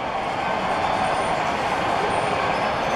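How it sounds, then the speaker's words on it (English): A train runs out of a tunnel at Strasburg with a loud, continuous rolling roar of wheels on rails and a faint metallic squeal on top, steady throughout and without voices. "here comes an actual train going out of the tunnel."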